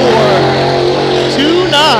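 Race car engine at a Hattiesburg Speedway heat race holds a loud, steady drone with a pitch that rises and shifts as the car laps, a second engine note joining near the end; a voice talks over it.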